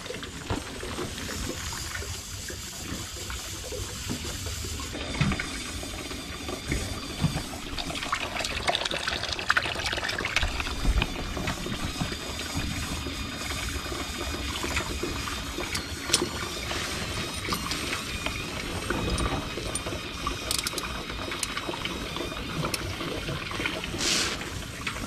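Water flushes steadily through the radiator cooling system of a 1973 GMC C2500 truck, a continuous close gushing and trickling that runs without pause.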